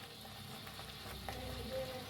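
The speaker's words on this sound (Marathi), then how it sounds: "मसाला मस्त असा भाजायला लागलाय" Ground spices including turmeric, coriander, cumin, egg masala and Kolhapuri red chili powder roasting in a pan for dhaba-style egg curry, giving a low, steady sizzle with faint stirring scrapes throughout.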